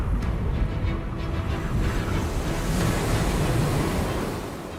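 Stormy North Sea waves crash and roll under gusting wind, a loud, dense, continuous roar of surf and spray that barely eases for several seconds.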